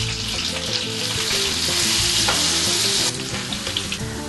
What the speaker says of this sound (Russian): Пока тушится лук,